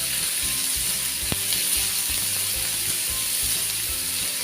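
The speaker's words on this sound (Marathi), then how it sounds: "1-2 मिनिटं आपण व्यवस्थित परतवून घ्यायचं आहे।" Onion sautéing in a pan, giving a continuous bright hiss of sizzling oil with one sharp tap of a utensil partway through, close and steady with no voices.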